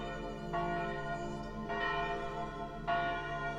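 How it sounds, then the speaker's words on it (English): Local church bells ring in San Gimignano, Tuscany, with three resonant strikes spaced about a second apart, each leaving a long humming decay that overlaps the next. "the local church bells started ringing"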